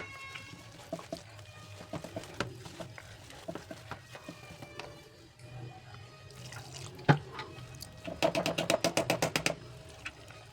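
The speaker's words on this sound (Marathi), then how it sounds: "त्यामध्ये आता थोडं थोडं पाणी घालून आपल्याला बॅटर छान मिक्स करून घ्यायचं आहे" Oats appe batter being mixed in a bowl while water is added bit by bit, with soft wet stirring taps throughout and a quick burst of rapid spoon clicks near the end, close and fairly quiet.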